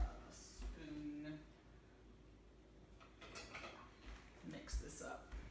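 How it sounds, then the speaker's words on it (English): Spoon scraping and clinking against a bowl while pimento cheese is stirred together, with a few faint knocks and clatters at close range and low volume, under quiet room noise. "I need to get all of that mixed up there."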